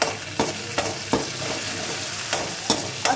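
Cashew and poppy seed paste with spices sizzles steadily in a pan, close by, broken every few moments by the sharp scrape of a stirring spoon. No voices.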